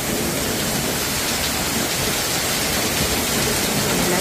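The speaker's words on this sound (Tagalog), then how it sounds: "ang lakas po ng ulan" Heavy rain pours down in Vigan, Philippines, in a dense, unbroken roar, loud and steady throughout.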